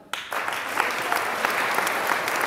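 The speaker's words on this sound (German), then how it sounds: "Jetzt noch mal klatschen." An audience at a talk on body language and improvisation breaks into loud, dense applause that starts suddenly and holds steady, with scattered sharper claps throughout.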